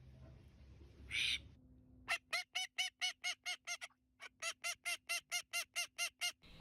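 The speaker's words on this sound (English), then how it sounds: "male and female ducks sound different." A duck quacks in a long run of evenly spaced, nasal calls, a dozen or more in two bursts, fairly close over a quiet background with no talking.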